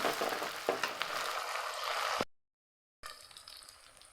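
Curry leaves sizzle and fry in a pan of Tamil chicken gravy as they are stirred in, a close, steady crackle that stops abruptly for a moment of silence before the frying resumes.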